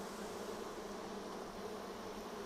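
Honeybees at an open hive after smoke is applied: a faint, steady, close buzzing hum of many wings, even and unbroken for the whole stretch with no talking.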